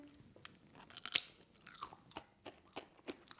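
Close-up crunching as a crisp buckwheat seed cracker is chewed, irregular sharp crackles and bites, fairly quiet with no talking.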